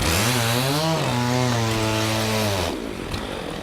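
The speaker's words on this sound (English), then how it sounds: "we always have a chainsaw with a long blade handy to nip off any edges" A long-bladed chainsaw trims the edges of blocks of harvested lake ice, its engine loud and close, the pitch sliding as the throttle shifts, then cutting out to quieter surroundings.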